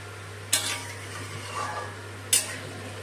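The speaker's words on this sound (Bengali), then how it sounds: "কাজু আর কিশমিশ ভাজাটা দিয়ে দিলাম দিয়ে সব কিছু ভালো করে মিশিয়ে নেব" A spoon stirring Gobindobhog rice pilaf with fried cashews and raisins in a pot with hot water: two brief scraping knocks about two seconds apart, a soft shuffle between them, close over a faint steady hum.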